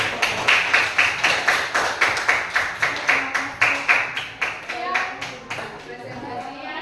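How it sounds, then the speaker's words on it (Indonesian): A school class claps together after a group presentation, sharp hand claps in a quick, regular patterned rhythm that loosens near the end, with children's voices faintly underneath. "Oke, kasih tepuk tangan."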